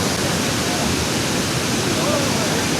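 Steady broadband rush of water falling at the waterfall near Netta viewpoint by Chittar dam, close and loud, filling the whole stretch without break and with no voices over it.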